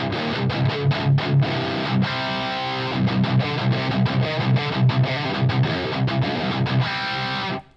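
A high-gain Mesa Boogie style distorted electric guitar tone from a Valeton GP-200 plays dense, chugging rhythm chords with sharp stops, loud and dry, ending abruptly.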